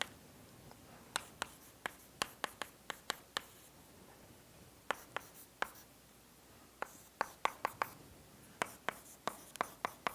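Chalk taps and scrapes across a board in quick clustered bursts as an ansatz for a partial differential equation is written out, close and crisp against a quiet room, with short pauses between strokes.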